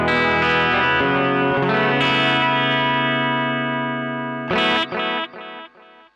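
An electric guitar chord rings through a delay pedal set to two or three repeats with tap tempo, plus amp reverb, sustaining loudly and then breaking into a few short, decaying echoed chords alone.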